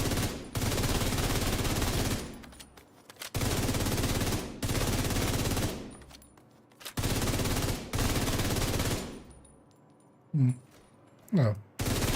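Sustained bursts of automatic gunfire from a shooter game set in The Division, several long volleys separated by short pauses, with a couple of brief sharp hits near the end.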